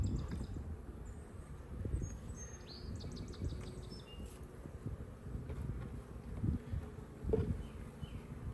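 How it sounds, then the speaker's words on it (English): Honeybees buzz steadily around an open beehive during an inspection, a continuous close hum with occasional louder swells as bees pass near, and faint bird chirps in the background. "A lot of bees."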